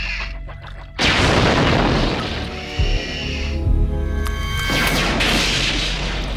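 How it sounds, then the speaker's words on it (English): Cannon from the Critters movies extending and firing: a sharp mechanical onset followed by a loud booming blast that rings and decays, with further crashing bursts, no voices. "I actually did keep the sound effects used in the Critters movies, like the cannon extending and firing."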